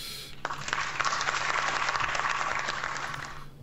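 Applause sound effect from the Playchess.com online chess server, a steady crowd clapping that lasts about three seconds at even loudness and then tapers off, with no talking over it.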